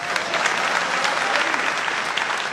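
Audience applause in a hall following a Hindi poetry recital, a dense continuous clapping that stays steady and fairly loud throughout with no voices over it.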